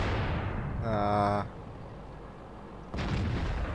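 A tank cannon firing at houses in World of Tanks, with a Panther 8.8 in play: a loud booming shot followed by a decaying rumble, then a second burst of noise a moment later.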